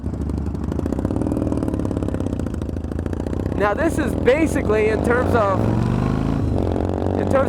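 A stock 1700cc Yamaha Road Star cruiser motorcycle engine idles with a steady low rumbling chug throughout, while someone talks over it.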